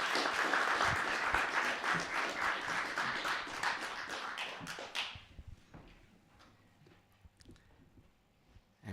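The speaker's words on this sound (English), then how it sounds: "Round of applause for Carol." A small audience at a Burns Night community radio event claps for a performer, with brisk, close applause that fades out about halfway through. Quiet room noise, a few faint shuffles and a soft knock follow.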